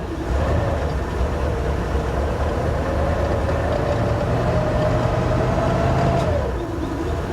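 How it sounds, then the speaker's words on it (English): A one-owner 1982 Ford F150 XL with 76K miles, left sitting since 2013, idles with a steady low engine rumble and a faint rising hum, then drops back slightly near the end, heard close by. "the damn thing is smooth once you give it a little gas"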